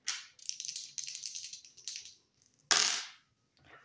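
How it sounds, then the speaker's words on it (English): Dice rattle and tumble in a short burst of clicking hits, followed by a sharper clatter as they land, quiet and close with brief pauses between. "rolling the dice to see what I need to shuffle the deck to"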